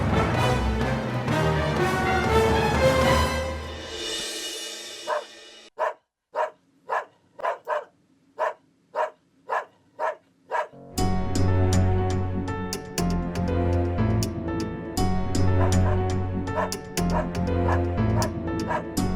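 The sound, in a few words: dog barking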